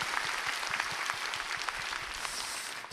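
A church congregation claps together during a Sunday service, a dense, steady wash of applause held at an even level across the whole span, with no voices over it.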